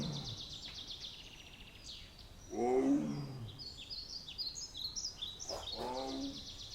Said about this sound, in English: we heard a tiger roar from a distance